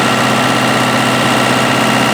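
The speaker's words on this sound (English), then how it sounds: "Hydraulics are fine. They haven't been used for 6 months. So I'm just doing a bit of a workout now." A John Deere tractor runs its hydraulics after six months unused, the engine holding a loud, steady idle with constant vibration and no clear change in load.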